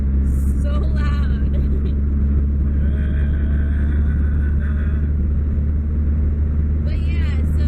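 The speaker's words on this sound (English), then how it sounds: "It's just the car is so loud." Loud, steady road roar fills a car's interior on a drive from Las Vegas to Hoover Dam, a constant low rumble of engine and tires; brief higher squeaks break in near the start and end, and a voice is faintly present under the noise.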